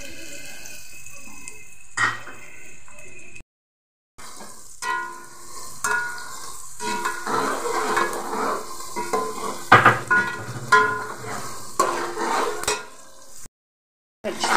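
Sliced onions frying and browning in oil in a pot for beef nalli nihari, a steady sizzle broken by loud stirring scrapes and clatter, with two brief gaps of near silence.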